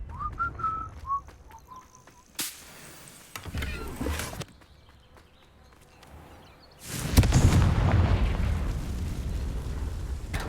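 A Confringo blasting spell explodes in Hogwarts Legacy, giving loud, broad bursts of noise that rise abruptly, with a long rumbling blast near the end. Quieter whistling game effects sit between them and no one speaks.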